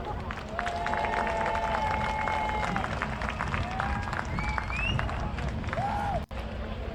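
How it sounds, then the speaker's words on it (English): A large crowd at the UMI King of the Mountain 2019 race event applauds and claps steadily for a crashed Corvette driver, a dense wash of clapping with scattered whistles and cheers throughout, briefly cut near the end. "Let's hear a big round of applause for him."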